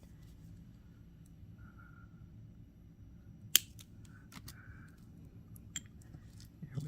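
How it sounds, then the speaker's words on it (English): Beading wire snipped beside a crimp bead on a green earth-toned bracelet, a single sharp click standing out amid quiet room tone and faint handling. "we'll just cut it right here by the crimp"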